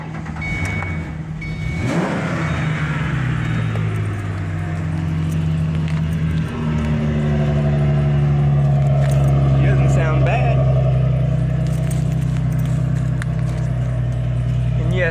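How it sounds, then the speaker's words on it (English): A Ford Mustang engine cold-starts on a chilly morning, cranking briefly before catching and settling into a steady idle with rising revs, loud and close, with someone talking early on. "I guess we'll do the Mustang. Start this old girl up. See if she wants to run today."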